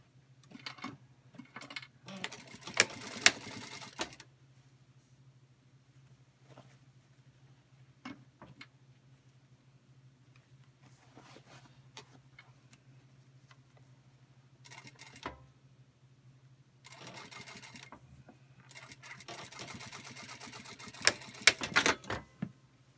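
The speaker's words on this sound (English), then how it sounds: "Now we're going to Sew across the bottom of our bag, pressing the seam allowance open." Singer industrial sewing machine stitching across the bottom of a bag in several separate bursts of rapid clatter over a steady low motor hum, with quiet handling between runs.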